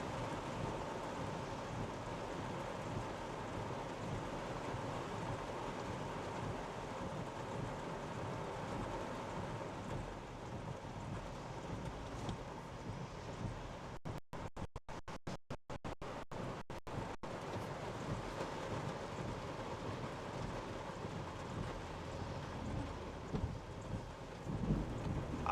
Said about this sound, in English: Oh, I heard thunder. We have a thunderstorm, people.